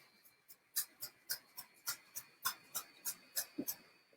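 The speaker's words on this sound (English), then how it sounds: "my dog is distracting me right now. He's scratching himself." Rapid, rhythmic scratching bursts, around a dozen in quick succession, close and fairly faint against a quiet background.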